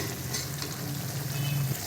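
Chicken steam roast cooking in a pan, a steady low sizzle with a faint hum running under it. No one speaks.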